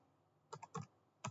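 A word being typed on a computer keyboard: a short run of four or five crisp, close keystrokes, quiet and isolated against near silence.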